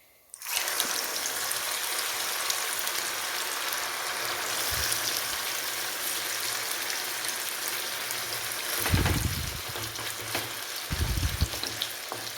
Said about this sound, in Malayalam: ഇനി ഇതിലേക്ക് നമുക്ക് ഇറച്ചി ഇട്ട് കൊടുത്ത് അതും വറുത്ത് പോരാം